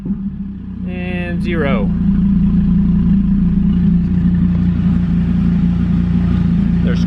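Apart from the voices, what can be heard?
Dodge Viper Gen 5 engine revving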